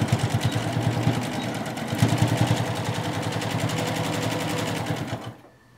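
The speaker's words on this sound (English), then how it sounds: "sew our 1/4 inch seam all the way down, again, stopping 1/4 inch before we get to the edge of the quilt" A sewing machine runs steadily up close, stitching a quarter-inch seam on quilt binding with a fast, even mechanical chatter for about five seconds before it stops.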